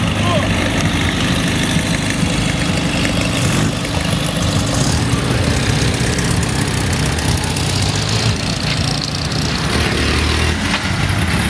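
An air-cooled Volkswagen Beetle (Fusca) idles at a car show outside a shopping mall, a loud continuous engine rumble that runs steadily for the whole stretch, with background voices mixed in.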